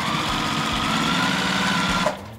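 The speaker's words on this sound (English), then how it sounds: "Now we're going to just sew this together as if it was a 9-patch here." Sewing machine stitching quilt blocks together for a disappearing nine-patch quilt, a steady close whirring hum running continuously before stopping abruptly near the end.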